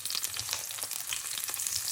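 Garlic, onion and ginger sauté in a hot pan for squid adobo, giving a steady, close crackling sizzle with faint stirring scrapes throughout and no talking.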